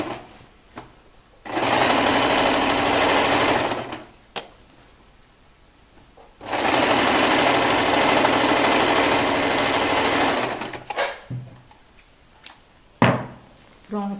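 A sewing machine runs a zigzag stitch on a child's gathered skirt in two long, loud bursts of fast rattling, separated by a short pause and followed by a few quieter handling knocks.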